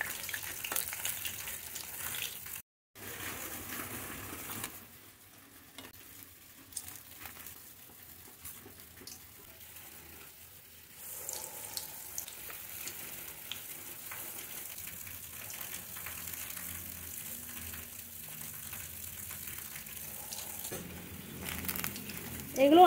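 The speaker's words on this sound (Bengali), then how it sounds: "এগুলো আমার মোটামুটি ভাজা হয়ে গেছে" Lentil vadas for dahi vada frying in hot oil, a quiet continuous sizzle with a brief dropout early on, steady through the rest of the clip.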